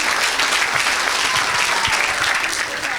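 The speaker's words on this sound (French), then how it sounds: "Est-ce qu'on peut acclamer Jésus?" A church congregation at an evangelistic service breaks into dense, steady applause that fills the room for the full three seconds, loud and close.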